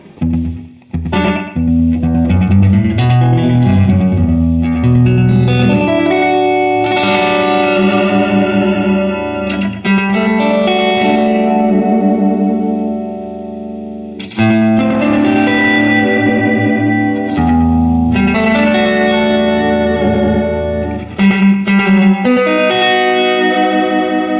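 A Pearl AD-33 analog delay pedal with the mix turned up very wet repeats a guitar's notes in thick, smeared echoes that pile up into a continuous wash of sound, loud and unbroken, with no talk.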